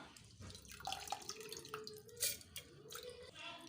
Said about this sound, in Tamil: இப்போ இதில் வந்து தண்ணி எல்லாம் கொஞ்சம் வடிச்சிட்டு இந்த அரிசி கடலைப்பருப்பு மட்டும் நம்ம உள்ளே ஆட் பண்ணிக்கலாம்